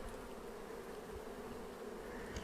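Honeybees swarm and attack a robbing wasp at the hive entrance, a dense continuous buzzing drone, close and steady, with no voices.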